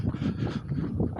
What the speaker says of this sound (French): j'ai l'impression qu'il y a un peu de vent